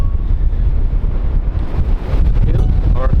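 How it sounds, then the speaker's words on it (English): Strong wind, gusting to 80 or 90 kilometers per hour in Baja California near Bahía de los Ángeles, buffets the microphone in a steady, roaring rush with low-end rumble, loud and continuous throughout. "we had wind like this, with wind gusts of 80 or 90 kilometers per hour"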